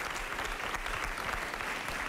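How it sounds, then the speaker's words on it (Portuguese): A studio audience at a televised dance competition claps loudly and steadily in dense, sustained applause with no pauses. "Palmas para a Noa"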